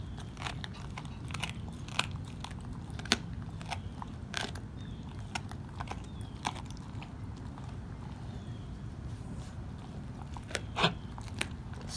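A dog chews and crunches on small raw young beef ribs, with steady close gnawing, wet chewing and sharp cracking bites scattered over a continuous low grinding texture.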